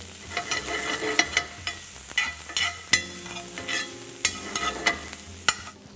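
Garlic and chopped onions sizzle in melting butter with a constant hiss. Frequent sharp clicks and scrapes from stirring sound close by, over faint background music.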